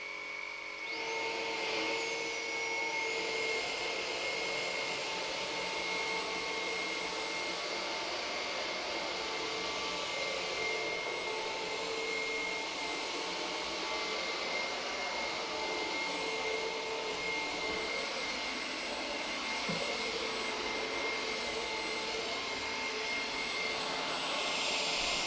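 A Conga RockStar 2500 Ultimate ErgoWet stick vacuum cleaner runs on its auto speed setting, a loud, steady high-pitched whine and airflow roar that holds evenly for about twenty-five seconds.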